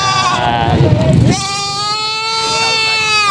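A goat lets out a long, loud wavering bleat close by, following a shorter, rougher bleat and background noise, at a goat market in Padre Garcia, Batangas.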